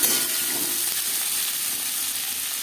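Six medium onions, chopped, frying in hot oil in a pan: a steady, moderately loud sizzle and hiss with no voice over it.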